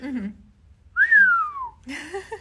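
A voice imitates a rising firework whistle, one drawn-out whistled tone gliding smoothly, set between brief bits of talk.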